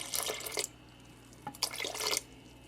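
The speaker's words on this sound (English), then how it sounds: "I'm going to go ahead and add a little bit of water, around 4 ounces or so" Water poured into a pot of chickpea stew, two short splashing pours separated by a brief pause, close and fairly loud with no talk.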